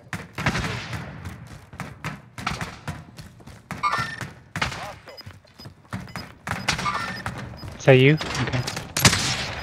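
Gunfire from a multiplayer video game shooter: sharp repeated bursts and thuds scattered through the clip, mixed with voices talking throughout.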